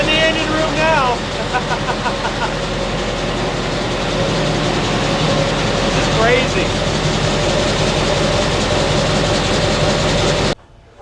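Twin Scania marine engines run loud and steady inside the engine room of a fishing yacht, a dense continuous mechanical roar with tonal whine, and a voice briefly speaks over it.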